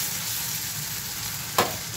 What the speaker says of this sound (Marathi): आता मी झाकण ठेवून परतवून घेते। कढई पातळ आहे ना, तर लगेच मस्त जळाले पा बटाटे